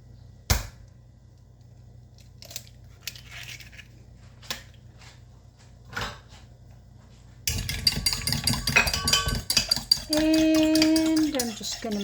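A spoon or whisk clatters against a bowl as egg and vanilla are stirred into scone batter with whipping cream, first a few sparse knocks and clinks, then a dense stretch of rapid scraping and tapping near the end.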